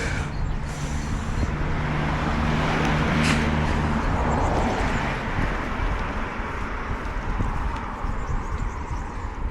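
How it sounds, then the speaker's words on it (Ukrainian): A car driving along a road, a steady broad rumble of engine and tyre noise heard from inside or near the vehicle, continuous throughout with no talking. "Їду додому."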